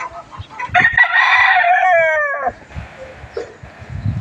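A chicken, likely a rooster, crows loudly and close by in one long drawn-out call, with scattered clucks and outdoor noise around it in a windy farmyard.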